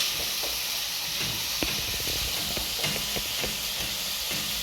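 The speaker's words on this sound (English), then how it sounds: "make sure you go on while turning your onions like this until they cook down to soften" Chopped onions sizzle in a hot pan as they are stirred, a steady soft hiss with faint scraping clicks of the spoon, fairly quiet and with no talking.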